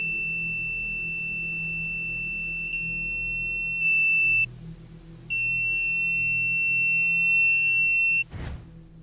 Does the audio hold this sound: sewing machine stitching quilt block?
no